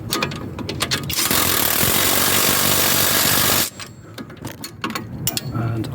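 Impact wrench on strut bolts of a Volvo XC90 suspension, one long loud continuous buzzing hammer burst of a few seconds, bracketed by clanks and handling noise.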